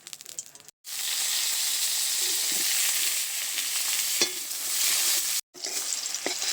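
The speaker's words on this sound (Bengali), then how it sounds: "এবার আমি বেগুনটা ভেজে নেব, আর বাকি থাকছে বাঁধাকপি।" Eggplant fries in hot oil in a pan, giving a loud, steady sizzle with a few sharp clicks of utensils. The sizzle cuts out briefly twice.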